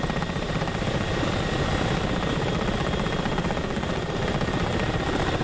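A helicopter's engine and rotor from the Black Shark flight game run as a steady, loud, close drone with a continuous whine, unbroken throughout and with no talking.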